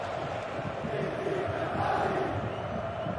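A stadium crowd at a late-game football match, fans roaring and urging the home side on, a dense, steady wall of cheering with no single voice standing out.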